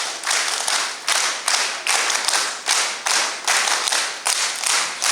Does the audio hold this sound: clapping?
yes